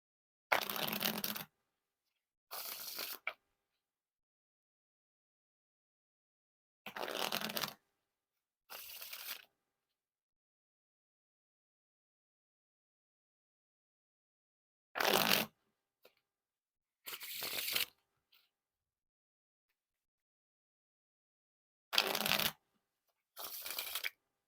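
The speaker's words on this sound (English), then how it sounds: "Now for the riffle shuffle or bridge shuffle." Bicycle Black Ghost playing cards are riffle shuffled and bridged, in close, crisp bursts of rapid fluttering clicks. The bursts come in pairs, separated by silent pauses, with no talking.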